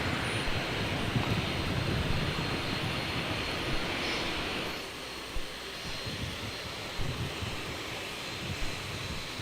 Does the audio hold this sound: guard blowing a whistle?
no